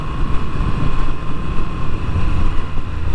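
Moto Guzzi V7 Stone motorcycle being ridden, a steady engine drone with strong wind rush over the microphone, continuous and fairly loud with a low rumble throughout.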